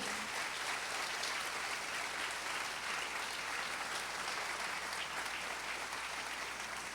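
A church congregation bursts into loud, sustained applause, a dense, steady wash of many hands clapping together for the whole stretch with no voices rising above it.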